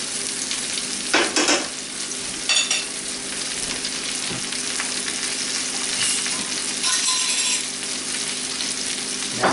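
Chopped onion and mushrooms sizzle steadily in a hot pan, a constant close frying hiss broken by a few short clattering bursts as the pan is stirred.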